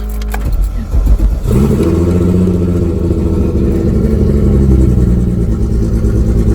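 Car engine started for a test drive after a new axle was fitted, catching with a rough burst and then settling into a loud, close, steady rumble, no talk.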